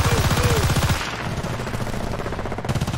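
Rapid automatic gunfire from the video game Battlefield Bad Company 2, a loud, dense burst of repeated shots filling the first second before dropping to a busier, lower-level battle background with a few more shots at the end.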